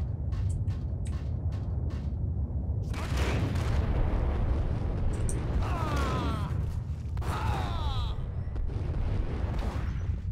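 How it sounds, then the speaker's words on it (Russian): Gunshots ring out in the Max Payne video game, a quick series of sharp cracks early on followed by heavier bursts, all over a constant low background rumble, with someone talking at points. "Контрольные выстрелы."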